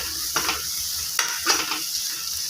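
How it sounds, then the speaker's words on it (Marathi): Thecha stir-fried with a spoonful of turmeric in a pan: a steady bright sizzle with a few louder scraping stirs of the spoon breaking through, close and continuous, with no voices. "आता यामध्ये मी घालणार आहे एक चमचा हळद ती पण छान परतवून घ्यायची आहे"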